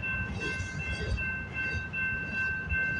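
CN M382 freight train rolling past at Delray Junction, a steady rumbling roar of wagons on rails with faint rhythmic clatter, heard at a moderate distance and continuous throughout.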